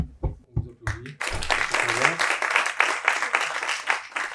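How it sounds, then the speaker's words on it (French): An audience at a prevention seminar on innovation breaks into steady, dense applause after a short stretch of nearby talk, the clapping filling the room and holding strong until the end. "On vous applaudit."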